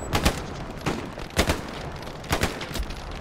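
Lanchester submachine gun fire in Hell Let Loose: four sharp, loud bursts of rapid automatic shots with short gaps between them, the action nearby and no talking.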